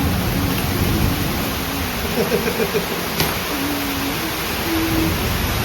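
Steady rain hisses throughout, with a few faint tonal sounds drifting in the background.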